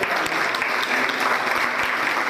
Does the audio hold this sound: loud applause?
yes